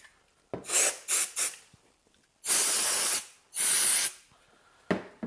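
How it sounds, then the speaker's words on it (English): Short hissing sprays from an aerosol can of cleaner onto computer case parts, first three quick bursts, then two longer steady blasts, close and fairly loud with quiet pauses between. "Give them a good spray as well."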